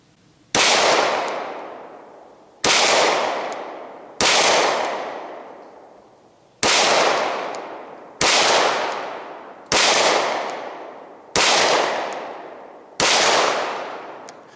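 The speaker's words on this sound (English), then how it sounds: "All right, 50-yard shots." Eight loud, sharp gunshots from a Glock 17 pistol converted to a PDW, fired at 50-yard targets, spaced one to two seconds apart, each shot ringing out and decaying before the next, with no talking.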